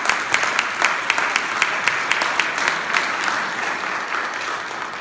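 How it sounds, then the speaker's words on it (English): Applause at a county Black Caucus leaders' meeting, honoring police officers: a roomful of people clapping loudly and steadily, with a few sharper individual claps standing out from the crowd. "would you join me in giving them a round of applause for their service?"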